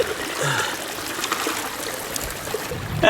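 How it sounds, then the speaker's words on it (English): Water rushes and trickles steadily through a gold mining sluice box outdoors, a close, even flowing sound with no talk. "I got a lot of water flow."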